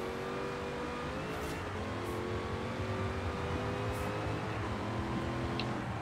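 Big SUV engine in the racing game Forza Horizon 4 accelerates steadily, a loud continuous drone with engine harmonics climbing through gear changes for the whole stretch, with no talking.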